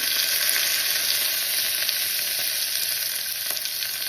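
Curry leaves fry in hot oil in a loud, continuous bright sizzle that stays close and even throughout, with no voices.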